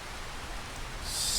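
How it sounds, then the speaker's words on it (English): Rain falls steadily on a farm in a farming video game, a soft even hiss that swells slightly toward the end. "So, I am on my farm. My new farm. And it is raining."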